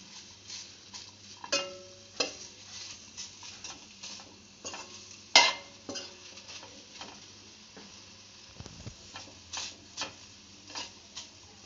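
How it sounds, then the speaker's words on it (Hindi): Dates are stirred and heated in a kadhai, with a spatula scraping and tapping the pan in scattered soft strokes and occasional louder knocks over a faint, steady background. "अब इसके बाद हम खजूर को कढ़ाई में डालेंगे और उसको भी अच्छे से गर्म करेंगे"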